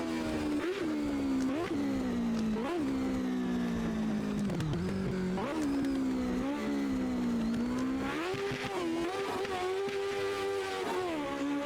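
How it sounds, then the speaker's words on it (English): Race car engine from the Automobilista 2 sim racing game, Le Mans-era machine, loud and continuous, revving up and down through repeated gear shifts with rising pitch sweeps and brief lifts, no talk over it. "Let's just listen to the engine."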